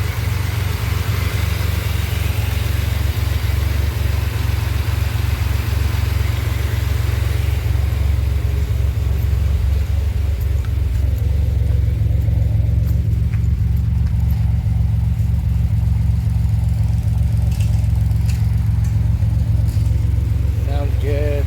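The engine of a 2007 Pontiac Grand Prix runs at a steady idle, a loud, even low rumble that continues throughout the clip.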